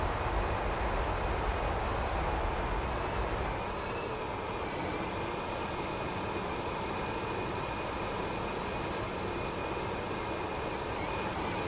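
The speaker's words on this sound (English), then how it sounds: "this is the takeoff roll" Jet engines roar steadily through a TFDi MD-11 takeoff roll in a flight simulator game, a continuous loud broadband rumble with a high whine that holds even throughout.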